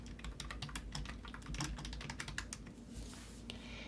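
Quick, steady taps of a computer keyboard as a search is typed, close and clear, with no voices.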